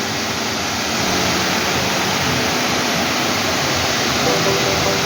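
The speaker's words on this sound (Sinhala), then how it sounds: "උඩ ගල්පොත් තියෙන වතුර එනවා." Water pours down over rocks in a Sri Lankan forest, a loud, steady, close rushing roar with no break.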